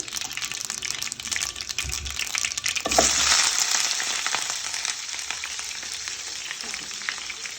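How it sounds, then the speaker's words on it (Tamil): Spices sizzle and crackle in hot oil for a fish curry, a steady close frying hiss that swells louder midway as more goes into the pan, with no talking. "இப்போ அது கொஞ்சம் பொரிஞ்சு வருது."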